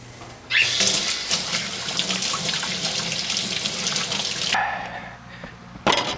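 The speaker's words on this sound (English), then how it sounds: "I'm gonna wash my hands again." Hands are washed under a running kitchen tap, a steady close splash of water lasting several seconds before it cuts off, followed by a short clatter.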